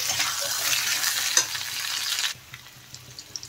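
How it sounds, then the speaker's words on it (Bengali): Potato and eggplant pieces are stir-fried in a pan for a fish curry, sizzling loudly and steadily with spatula scrapes, then the frying drops abruptly to a quieter crackle. "দেখেন আলু আর বেগুন বেশ ভালোভাবে আমি কষিয়ে নিয়েছি।"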